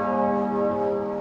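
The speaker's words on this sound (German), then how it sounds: "Die Glocken des Stephansdoms begleiten das Gedenken an die verstorbene Ärztin." Church bells of St. Stephen's Cathedral in Vienna ring steadily, a dense sustained peal with layered resonant tones that continues at even volume throughout, with no voices.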